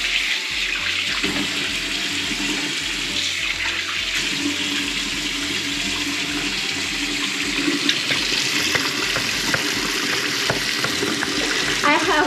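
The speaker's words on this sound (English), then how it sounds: "I have to wash my face first." Water runs steadily from a tap into a sink for face washing, a continuous close rushing and splashing that lasts throughout.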